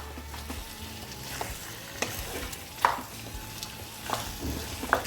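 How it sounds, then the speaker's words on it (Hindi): Chicken curry being stirred in a pan over high heat, with a steady sizzle under irregular scraping and a few sharp metallic clinks of the spoon against the pan, no talking. "आंच थोड़ी सी तेज रखेंगे, और इसको अच्छे से हम लोग मिला लेंगे।"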